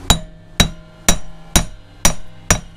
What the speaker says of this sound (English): So utilizing my brass hammer, I'm just gonna tap right in the center and just pop it out.